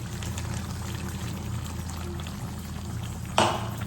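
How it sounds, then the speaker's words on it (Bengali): Water is poured into a cooking pan in a kitchen to boil food, with a steady sizzling hiss throughout and a sharp splash near the end, close by and with no talk. "দিয়ে দিলাম সেদ্ধ করার জল"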